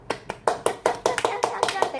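Children in a Korean picture-book reading lesson clap their hands in a quick, even rhythm, about a dozen crisp claps in two seconds, with a voice along with them.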